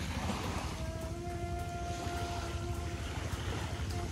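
Waves washing against the shore beside a Malay Sambas village in Kalimantan, a steady broadband rush blended with wind buffeting the microphone, continuous and fairly loud throughout with no talking.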